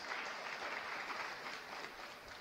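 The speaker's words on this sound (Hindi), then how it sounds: "एक बार जोरदार ताली जरा इन 6 के लिए बता देंगे" Loud, enthusiastic applause from a seated audience at a career guidance session at RTM Nagpur University, honouring six standing students; dense steady clapping runs throughout without talk.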